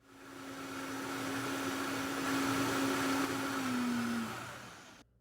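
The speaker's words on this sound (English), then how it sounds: "Blend for 1 minute, then check for seasoning." A blender whirs steadily for about four seconds, puréeing red sauce with crisp white wine and ground thyme, its loud even motor drone holding a low hum before winding down and cutting off.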